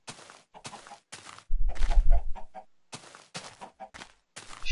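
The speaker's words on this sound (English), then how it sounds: "Okay, chickens here." Chickens in a video game world, several short bursts of clucking repeating in quick spaced groups, near and clear, with a low thudding rumble briefly underneath.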